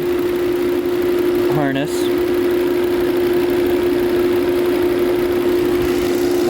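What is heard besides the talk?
2012 Volvo S60 engine idling with cylinder misfire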